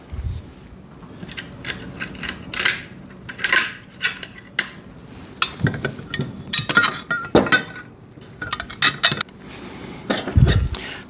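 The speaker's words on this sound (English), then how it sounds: "and then put the bolts through." Loose metal bolts clink and rattle against the steel frame of a foldable welding table during assembly, a close series of sharp irregular metallic taps and jingles with brief pauses, no talking.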